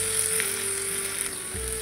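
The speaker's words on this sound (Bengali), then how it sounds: "আর একটু ভাজতে থাকবো আদা রসুনের কাঁচা গন্ধটা চলে না যাওয়া পর্যন্ত।" Onions frying with ginger-garlic paste in a pan for a Bengali chola bhuna, a steady close sizzle running evenly throughout with no talk.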